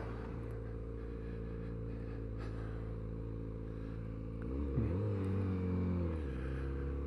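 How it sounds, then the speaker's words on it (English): A Kawasaki Z900RS motorcycle engine idling fast just after start-up, a faint steady droning hum that swells briefly in pitch and loudness near the end. "It's got a very fast idle when it first started up."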